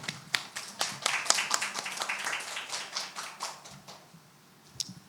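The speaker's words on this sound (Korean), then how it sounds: "큰 박수로 맞아주시기 바랍니다" Light applause from a small audience at a science and technology forum, scattered claps close by that thin out and fade after a few seconds.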